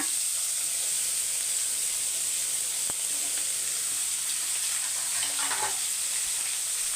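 Carrots, beans and cabbage sizzling in a frying pan, a constant bright hiss close to the mic, with a faint tap or two of a utensil partway through.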